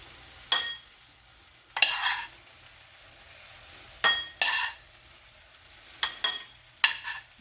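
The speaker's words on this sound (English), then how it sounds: "So in with the cauliflower rice." Cauliflower rice tipped into a hot pan and stirred, heard as several separate scraping, clattering bursts of utensil on pan spaced out over a few seconds, with quiet gaps between them and no talking.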